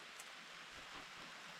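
Soft, steady rain hisses faintly in the background, a quiet continuous patter with no voices.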